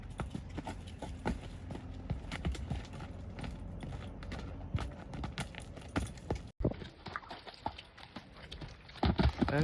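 Horse hooves clip-clop steadily on the ground during training of a Kathiyawadi-Marwari horse, the rhythmic beats fairly close and distinct over a busy outdoor background.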